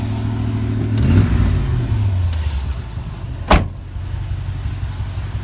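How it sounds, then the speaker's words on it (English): A 1985 Chevrolet C10 pickup engine runs loudly, then drops from high idle into a steady lower rumble, with a short mechanical clunk partway through. "let's get it off for high idle."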